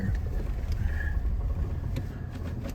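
All-wheel drive vehicle motoring along with a steady, rumbling engine drone and road noise, continuous and fairly loud from inside the cabin.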